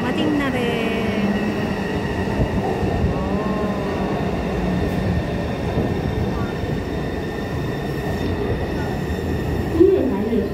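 A train pulls into a station platform, a steady rolling rumble with faint wheel squeal and a brief metallic clank near the end, sustained and fairly loud throughout.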